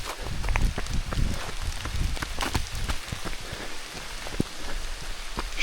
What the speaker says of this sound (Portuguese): Chuva entrando com força nesse momento